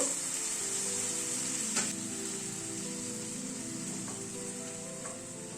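Spice masala of coriander, cumin and salt with a little hot water fries over a medium flame, a soft continuous sizzle close by with a bright hiss early on and a few faint clicks of stirring, no talk.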